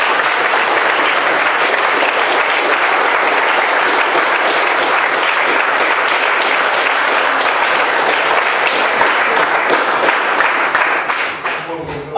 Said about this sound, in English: I think we should give them a big applause